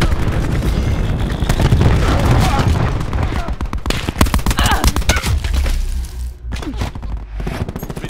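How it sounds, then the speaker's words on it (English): Rapid bursts of grenade explosions and gunfire in a Call of Duty: Black Ops 4 Hardpoint match on the Firing Range map, dense and loud throughout, with a spoken voice in the mix. "Cluster grenade going out."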